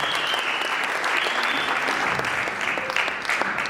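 A church congregation claps together in a dense, sustained round of applause lasting a few seconds, fairly close and steady.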